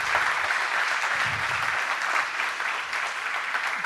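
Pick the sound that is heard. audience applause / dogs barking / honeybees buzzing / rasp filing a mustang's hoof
audience applause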